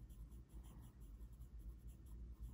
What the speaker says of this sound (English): skate your pencil around